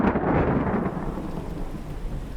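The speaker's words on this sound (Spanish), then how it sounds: "Estaba lloviendo mucho y no teníamos nada para taparnos." Heavy rain pours steadily with rolling thunder, a loud, continuous wash of noise that swells early and stays dense throughout, with no voices.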